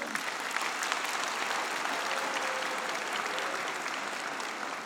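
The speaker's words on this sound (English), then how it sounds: "give him a raucous rock star clap and cheer as he comes through as the last student" An audience at a BCIT convocation claps and cheers steadily, a dense, sustained wash of applause holding at an even level throughout.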